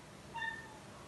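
A cat named Delilah gives a single short meow, close by and moderately loud, over a quiet room with faint background hiss.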